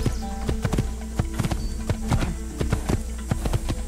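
Horse hooves approach in the video game Assassin's Creed, a close, steady clip-clop of hoofbeats over a low background hum.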